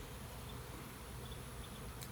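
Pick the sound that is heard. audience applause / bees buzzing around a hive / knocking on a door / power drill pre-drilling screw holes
bees buzzing around a hive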